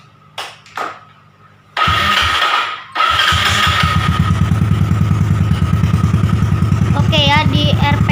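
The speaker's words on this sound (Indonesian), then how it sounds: "gue bakalan coba nyalain motornya" Yamaha Mio Sporty motorcycle fitted with a WRC exhaust, starting after a couple of brief attempts, then settling into a loud, rough, close idle with a steady throbbing pulse.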